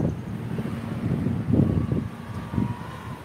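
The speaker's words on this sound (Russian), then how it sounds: "Хочу вам сказать, что ветер отчасти притих. Хоть он и пока дует" Wind gusts across an open, dusty outdoor spot, a low buffeting rush against the microphone with a few stronger surges, moderately loud and continuous with no voices.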